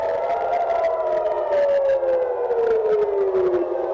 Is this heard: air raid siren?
yes